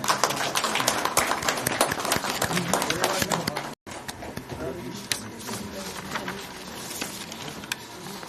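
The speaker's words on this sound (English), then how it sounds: "Ladies and gentlemen, please give a great round of applause" Audience at an engineers' convention applauds, a busy patter of many hands clapping steadily, briefly cut and then resuming slightly softer.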